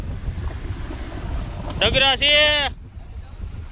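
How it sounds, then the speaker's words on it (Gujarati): Strong storm wind buffets the microphone on a truck journey, a steady broad roar running throughout, with a voice speaking loudly over it for about a second before the roar settles back. "અત્યારે મિત્રો આ વાવાઝોડું પવન એવો છે કે એની તમે વાત પૂછોમાં, એવો પવન આવવા માંડ્યો છે"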